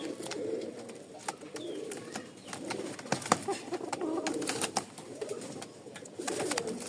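Rajshahi Giribaz pigeons coo close by in soft, repeated throaty calls, rising and falling in bursts over light background rustling and clicks, at a fairly quiet level.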